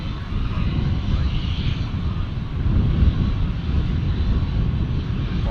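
An airplane taxiing at Dallas Fort Worth International Airport gives a steady, fairly loud engine rumble that runs unbroken throughout, with some wind-like hiss mixed in.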